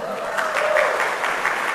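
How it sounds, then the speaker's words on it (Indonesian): Congregation applause in a church service, a short dense burst of clapping from many hands with a voice faintly audible in the mix. "Tepuk tangan dulu."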